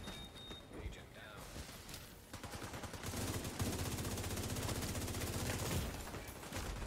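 Rapid bursts of gunfire from an online multiplayer shooter game, with steady automatic fire building in the second half, loud and continuous over faint background game sound.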